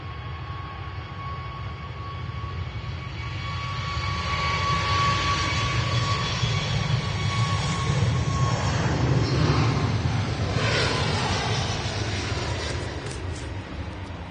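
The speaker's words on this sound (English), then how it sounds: "It's a 737 MAX 8 from Ryanair, obviously." A Ryanair Boeing 737 MAX 8 jet taking off from Manchester Airport: a broad engine roar swelling over the first few seconds, peaking around the middle and holding strong, with a thin whine fading partway through.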